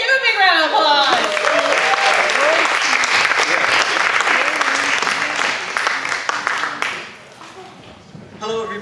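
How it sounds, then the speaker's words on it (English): Loud, sustained applause from a crowd, with some cheering mixed in, fading out toward the end as a voice begins. "Give him a big round of applause."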